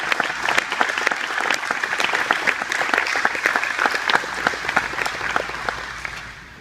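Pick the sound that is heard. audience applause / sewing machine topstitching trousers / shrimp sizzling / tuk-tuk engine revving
audience applause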